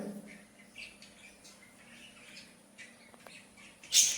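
Budgerigars chirp in a bird room, soft scattered tweets and twitters at low level, with a sudden louder squawk near the end.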